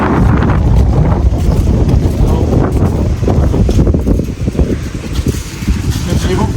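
Cold wind blows hard and constantly across the microphone in a loud, rumbling roar, with a voice faintly audible beneath it.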